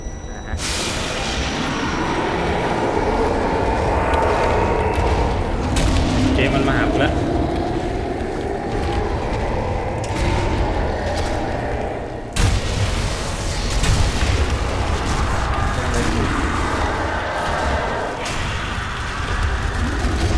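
A grenade explodes in the zombie shooter Sniper Elite: Nazi Zombie Army 2, one sharp boom partway through a dense, continuous wash of loud game noise and rumble.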